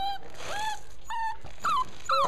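A homeless dog in an animal shelter whimpers close by, giving several short, high-pitched whines in quick succession with brief pauses between them.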